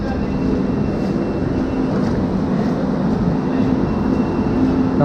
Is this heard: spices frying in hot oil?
no